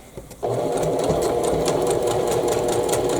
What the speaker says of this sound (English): And I'm going to stitch past the seam about 1 inch.